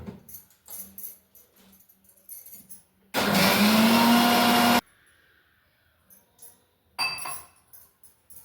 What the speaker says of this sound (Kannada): ಮಿಕ್ಸಿಗೆ ಹಾಕ್ಕೊಳ್ತೀನಿ ಇದನ್ನು